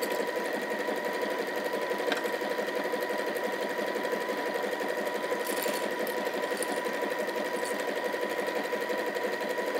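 A sewing machine runs continuously along the pocket of a fabric caddy, its motor humming at a constant fast stitching rate, close and even throughout with no voices.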